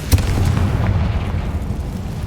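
A Confringo spell in a Harry Potter video game goes off as a single deep, booming explosion, a sharp burst followed by a loud rumbling tail that fades slowly, with no voices.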